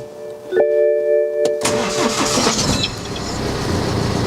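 A BMW engine starts after an exhaust downpipe flexi repair, a sharp cranking burst followed by a loud, steady running roar from close by, with no talk.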